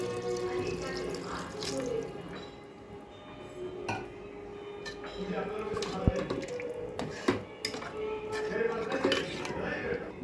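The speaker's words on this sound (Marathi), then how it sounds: "हे बघा, छान कुकरचं झाकण लावलं आहे आपण." A pressure cooker lid is fitted on in a home kitchen, with scattered soft metallic clinks and knocks over a faint background of running water and clatter, all fairly quiet.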